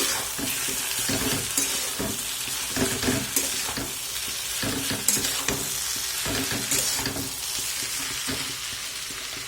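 Egg chicken chow mein is stir-fried and tossed in a pan: a continuous loud sizzle broken by repeated scraping and clattering strokes of the utensil as the noodles are mixed.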